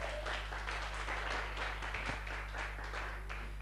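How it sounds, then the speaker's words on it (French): Faint, steady applause from a gospel show audience rolls on with an even, distant texture over a low electrical hum. "On applaudit très très fort pour Famatel qui accompagne l'émission."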